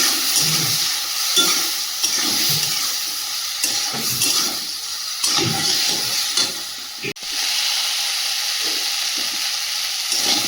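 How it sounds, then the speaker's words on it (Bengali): Potato and papaya cubes sauté with cumin, coriander and chili powder in a pan, giving a steady loud sizzle with bursts of scraping stirring throughout. "তো এই জলটা দিয়ে দেবো, ভালো করে কষিয়ে নেব আলু আর পেঁপেটা"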